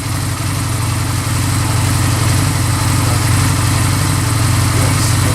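A motorcycle engine idles nearby with a loud, steady low thrum that runs unbroken from start to finish.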